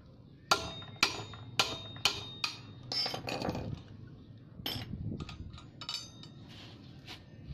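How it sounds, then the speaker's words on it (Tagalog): A 22mm socket works a high nut off the rear axle of a Yamaha Mio Sporty scooter; five sharp metallic clanks come at a steady rhythm, then scraping and lighter clinks follow close by. "Gamit itong 22mm na socket, ayan, tatanggalin ko itong nut dito sa may axle."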